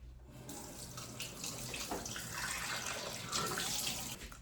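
Hot water runs steadily from a bathroom tap while someone waits to rinse their face; the splashing stream is close and continuous, with no talking.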